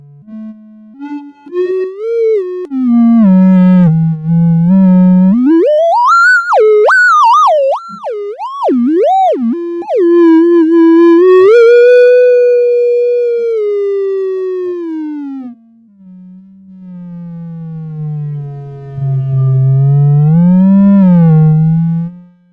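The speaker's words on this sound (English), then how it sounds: "We'll do triangle wave with distortion." A synthesized triangle wave with distortion sweeps and warbles through rising and falling pitches, with a fast vibrato passage in the middle, loud and alone, with no voices.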